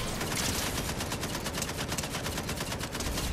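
Dense, rapid video game gunfire in Fortnite crackles nonstop in a steady automatic burst, loud and close, with no voices.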